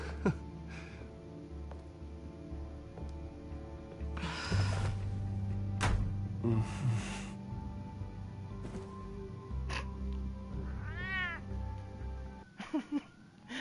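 A cat meows in Batman: The Telltale Series, several short, clear meows scattered across a game scene, with background music and sound effects in the mix.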